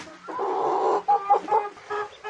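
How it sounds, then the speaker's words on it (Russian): Hens and broiler chickens cluck steadily at close range in a farmyard, a low continuous murmur of clucks broken into a few short rising calls. "Курочки поют."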